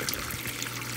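Water pumped back into a spa hot tub at about 96 degrees, running through a modified water heater heat pump, gives a steady, continuous rush and trickle of flowing water, moderately loud and unbroken, with no talking.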